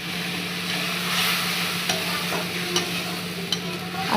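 Oil heating and food frying in a black kadai, a steady close sizzle with occasional scraping stirs and light clinks of the utensil against the pan.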